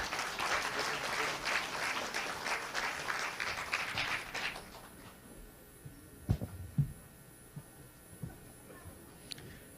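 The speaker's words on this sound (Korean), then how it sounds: "여러분들께서 큰 박수로 맞아주시기 바랍니다." An audience at a Korean party convention debate gives loud, sustained applause for about four seconds. It then drops to a quiet room with scattered thumps and faint murmuring.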